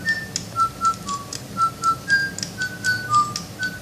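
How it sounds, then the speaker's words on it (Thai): A JoyPalette toy robot bird whistles a short song as a quick run of bright, clear notes, each one a little separate from the next, played close and with no voices. "เขารับคำสั่งจากนกหวีด นะครับเขาถึงจะร้องเพลงนะครับ"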